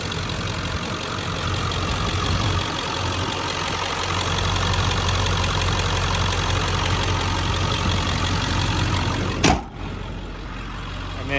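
A 2002 Ford Excursion Limited with a 7.3L Powerstroke diesel idles steadily, a constant clattering rumble heard close with no talk, ending in a brief knock that leaves it a little quieter.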